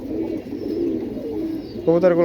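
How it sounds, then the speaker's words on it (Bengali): Domestic pigeons held for sale coo in a steady low murmur nearby. A sharper, more tonal voice-like burst comes in near the end. "খুবই সুন্দর কবুতার"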